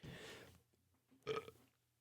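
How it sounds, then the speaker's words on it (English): Two soft, low burps from a person, a longer one at the start and a shorter, slightly louder one about a second later, quiet and close with no talking. "I don't know why I keep burping"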